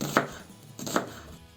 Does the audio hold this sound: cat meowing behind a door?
no